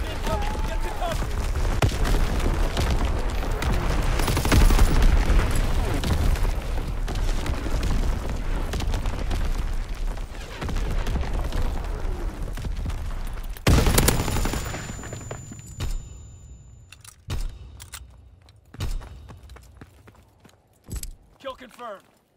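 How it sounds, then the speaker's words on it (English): Artillery explosions and gunfire in Call of Duty WWII hardcore multiplayer: dense, continuous bursts of shots and heavy booms rumble for about fourteen seconds, then give way to scattered, isolated shots and blasts with quieter gaps between, while game voice callouts sound over the action. "Incoming enemy artillery. Get to cover. Enemy bomb incoming."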